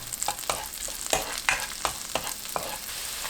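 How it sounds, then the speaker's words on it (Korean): Garlic stir-fried in melted butter in a pan gives a soft, steady sizzle, broken by a series of sharp spatula scrapes and taps at a quick, uneven rhythm close by. "버터가 반 정도 녹으면 바로 마늘을 넣고 1분 볶아주세요."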